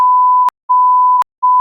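A censor beep: three loud, pure electronic tones, each lasting about half a second, separated by short silences.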